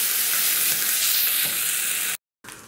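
Tomato paste being mixed into fried garlic in a pan for tomato pickle: a loud, dense, close frying hiss with faint stirring scrapes, cutting out abruptly near the end before resuming briefly.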